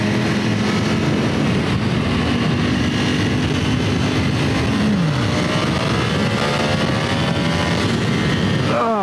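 A 2020 Ducati Panigale V4 S engine revs and rises in pitch over steady engine drone, with a sharp climbing whine near the end; loud and continuous.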